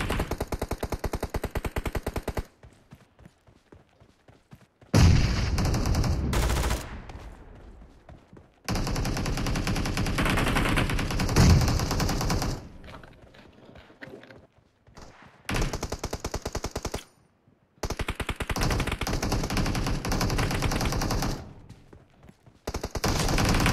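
Gunfire from the mobile battle-royale game PUBG Mobile at a base-capture objective, loud bursts of rapid automatic shots in several long stretches separated by brief quiet gaps.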